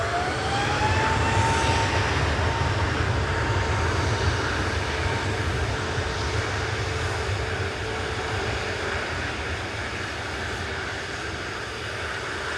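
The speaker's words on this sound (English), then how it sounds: "Taking off in front of it is EasyJet to Naples" An EasyJet airliner taking off from Manchester Airport bound for Naples, a steady loud jet roar with a brief rising whine at the start, then a sustained broadband rumble that slowly fades.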